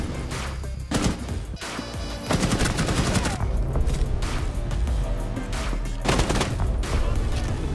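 In a professional Counter-Strike match, the grand final of the European Six August 2020 Major, gunfire and a thrown grenade sound over a dense, loud game mix. There are sharp shot bursts and impacts and an energetic commentator talking.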